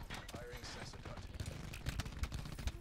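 Gunshots in the Call of Duty Black Ops 4 video game, a quick run of sharp cracks and thuds heard close, with someone talking over the firing.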